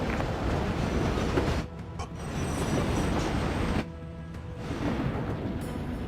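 A train rolls along its rails in the video game Warzone, a loud, steady, close rumble with dense rattling clatter that briefly dips twice before resuming.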